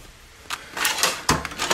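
A cluttered junk drawer in a home tool box slides open with a few short scraping and knocking bursts as loose odds and ends shift and rattle inside, close by.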